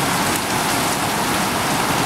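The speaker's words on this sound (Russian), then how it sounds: "Я в шоке, какой у нас дождь начался." Heavy rain pours down in a sudden downpour, with gutters overflowing and water running everywhere, a dense, steady hiss of drops hammering surfaces up close, unbroken and with no voices.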